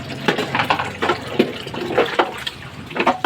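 Water pouring from a tap or container to fill drinking dishes for cats, a close, uneven gushing and splashing that comes in short surges.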